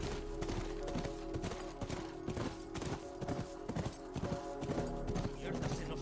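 Horse hooves clip-clop steadily in The Last of Us, close and rhythmic, beneath a tense game soundtrack with voices shouting in the background.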